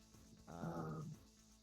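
A pet dog lets out a single drawn-out bark or growl lasting under a second. It is moderately loud against a quiet indoor background, with no talk over it.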